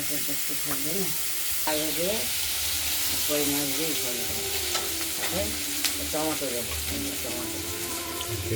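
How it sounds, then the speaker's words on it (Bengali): Steady sizzling of potatoes and beans frying in a pan, with intermittent scraping and stirring, while a person talks over it. "আলু আর বিনসগুলো একটু ভাজা ভাজা করে নিই"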